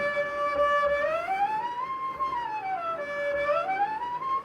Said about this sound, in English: So you should hear the harmonics just,